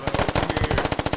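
Sustained machine gun fire in the Squad video game: a loud, close, rapid stream of about a dozen and a half evenly spaced shots with no break.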